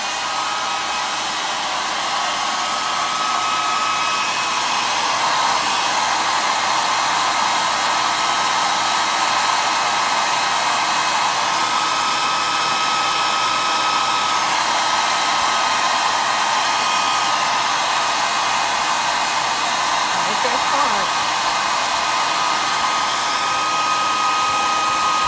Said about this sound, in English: So then get your hairdryer out. This is going to make noise, but anyhow, just dry it